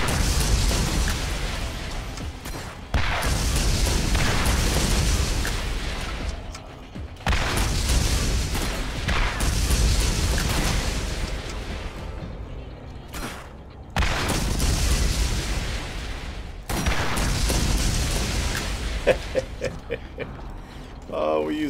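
Loud rocket launcher explosions in the video game Borderlands, several heavy booming blasts in repeated bursts with short gaps between them, alone with no talk.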